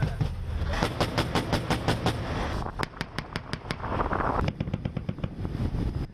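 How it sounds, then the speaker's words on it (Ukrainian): Rapid bursts of heavy gunfire from naval guns and machine guns, sharp repeated reports in quick rhythmic runs, loud and close, with brief pauses between volleys. "лунали постріли корабельних гармат та кулеметів"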